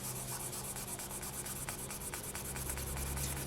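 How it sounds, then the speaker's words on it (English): Polymer clay bead surface being burnished flat by hand, a soft continuous rubbing with faint scratchy strokes against a steady low hum, close and quiet with no talking. "Then we're going to burnish that on."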